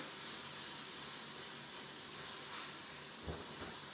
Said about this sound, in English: I gotta keep an eye on my mushrooms, making sure that they're all sauteing.